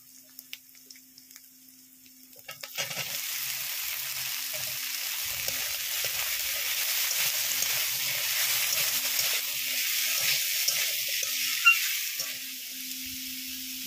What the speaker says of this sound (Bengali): এখন ধুয়ে রাখা কচুর লতি দিয়ে দেবো।